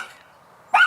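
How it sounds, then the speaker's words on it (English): A single short dog bark, a pit bull-type house dog set off by a cat in the yard, bursts out loud and close near the end after a faint murmur of background sound. "That's my dog Jerry barking."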